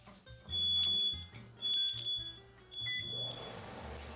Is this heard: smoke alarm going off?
yes